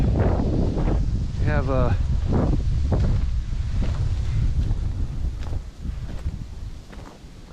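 Strong wind buffets the microphone with a constant low roar at an open pavilion on a concrete slab, while someone talks briefly over it.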